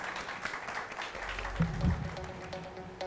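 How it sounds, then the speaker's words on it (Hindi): An audience at an agricultural women's awards ceremony applauds steadily for about three seconds, a soft, even patter of clapping heard from a distance. "जोरदार तालियां।"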